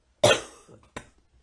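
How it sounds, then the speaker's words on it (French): A single harsh cough, close and fairly loud, followed after a short pause by a second, smaller cough. "Excusez-moi de tousser comme ça"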